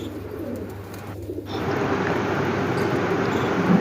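Pigeons coo softly inside their coop among perches and nesting boxes, low murmuring calls over a steady background hum, with no talk.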